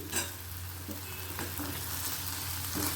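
Dry red chillies with coarsely ground chilli-ginger paste sizzle steadily in hot oil under a low constant hum, with a few soft stirring scrapes and no talking.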